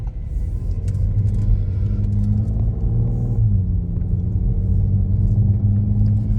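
An Audi RS4 cruises along an Alpine mountain road from Sölden toward Obergurgl in Austria, its engine a steady, close, loud rumble with a gear change partway through and the tone settling again afterward.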